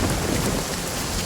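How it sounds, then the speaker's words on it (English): Heavy rain pours steadily in a night scene from the 2017 horror film The Ritual, a dense, continuous wash of loud falling water with no voices. "It's getting dark, and with the night comes the rain."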